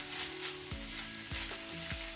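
Amaranth leaves fry over a high flame in a pan, giving a steady loud sizzle, with a spatula scraping through them three or four times at a slow, even pace.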